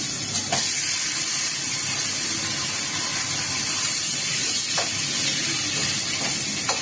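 Taro leaves tumble into a hot pan of oil with garlic, setting off a steady, bright sizzle that hisses on evenly, with a few soft knocks of stirring and no voices.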